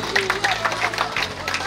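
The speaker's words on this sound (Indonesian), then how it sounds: "Beri tepuk tangan yang meriah." Festival crowd clapping in a continuous patter of applause at an outdoor civic event in Jayapura, with voices and murmur mixed in throughout.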